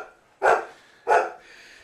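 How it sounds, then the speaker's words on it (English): A dog gives two loud, close barks about two-thirds of a second apart, each sharp bark trailing off quickly, in an otherwise quiet room. "I'm guessing my dog's hungry. I'm guessing that's what that sound is, and Sasaya is feeding him at this second."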